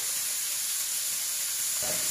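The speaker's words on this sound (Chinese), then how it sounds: "炒碌菜一般我们都不加其他，炒干些水分，下入盐" Hakka lu cai vegetable stir-frying in a wok with ginger, a steady loud bright sizzle and hiss running throughout, with a faint scrape of stirring near the end.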